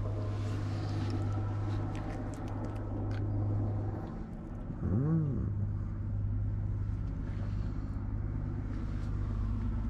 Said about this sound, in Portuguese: Não sei se vocês estão ouvindo os caminhões ao fundo, mas tem um monte.